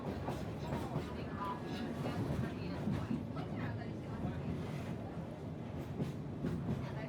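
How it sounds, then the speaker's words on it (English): The Sagano Romantic Train runs along the Hozu River railway through Kyoto's Hozu Gorge: a steady rumbling rattle of the carriages with light rhythmic clatter, heard from inside, with voices talking over it. "The train set off and Beary began filming the Hozu River, which runs alongside the railway for much of the journey."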